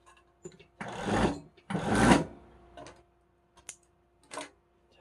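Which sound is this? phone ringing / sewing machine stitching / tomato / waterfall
sewing machine stitching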